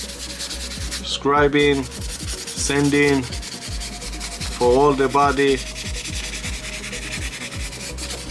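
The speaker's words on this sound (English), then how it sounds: "I take a 600 by TAMIYA sanding sponge" Soft scratchy rubbing of a 600-grit Tamiya sanding sponge on a Porsche 911 GT3 RS model car body, short strokes repeating, with someone speaking briefly in between.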